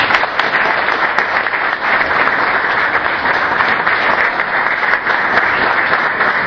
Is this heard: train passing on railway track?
no